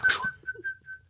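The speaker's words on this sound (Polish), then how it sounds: "gwizdania" A single person whistles a short, faint tone that breaks into a few soft, sustained notes after a brief breathy onset.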